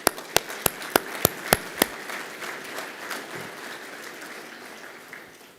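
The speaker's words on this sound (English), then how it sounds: "Let's give them a round of applause for what they've done." Applause at a NAIOP Georgia commercial real estate meeting, beginning with about seven loud, evenly spaced single claps before settling into a softer, steady wash of clapping that fades away.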